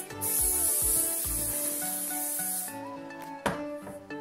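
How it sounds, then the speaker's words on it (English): Hairspray (Schwarzkopf Silhouette) is sprayed onto styled hair in one steady hissing burst of about two and a half seconds, heard over background music. "Finish with some hairspray."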